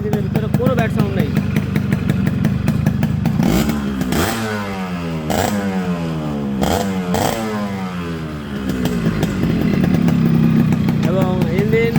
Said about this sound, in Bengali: এবং ইঞ্জিনের ভিতরে কোনো ব্যাড সাউন্ড নেই।